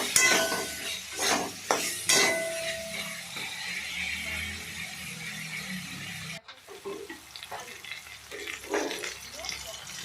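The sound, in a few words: stirring Bengali drumstick-flower and fish-roe curry in a pan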